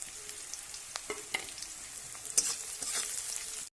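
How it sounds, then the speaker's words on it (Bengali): Onion with whole cumin, dried chili, turmeric, salt and bay leaf frying in a pan, a steady soft sizzle with occasional stirring clicks and scrapes, close and moderately quiet, no one speaking. "এবার দিয়ে দেবো গোটা জিরে, শুকনো লঙ্কা, হলুদ, লবণ আর তেজপাতা"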